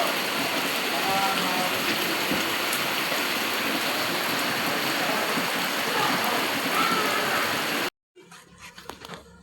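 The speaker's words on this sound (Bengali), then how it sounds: "এদিকে মুষলধারায় বৃষ্টি নেমেছে, কতটা জল জমে গিয়েছে সামনে।" A heavy downpour of rain roars as a dense, constant hiss for most of the stretch, then cuts off abruptly, followed by quieter, uneven sounds.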